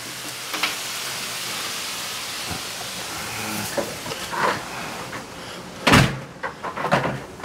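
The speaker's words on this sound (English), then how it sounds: "The door didn't shut." A door slides along its track and fails to shut, with scattered rustles and knocks leading to a sharp thump near the end, followed by a few lighter clatters.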